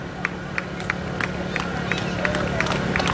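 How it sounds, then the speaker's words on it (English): Sparse, evenly spaced claps from a spectator at a race finish line ring out over a steady crowd murmur and outdoor background noise. "Gary's clapping. It must mean another runner's coming to the line."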